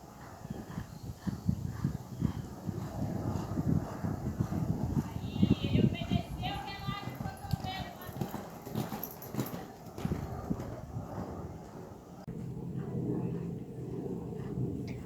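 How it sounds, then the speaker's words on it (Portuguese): Horse galloping around a riding arena during a show-jumping training session, hoofbeats thudding in a steady rhythmic pattern at moderate distance, with a voice speaking over part of it. "não fez uma transição ao trote e continua no trote, vamos galopar de novo"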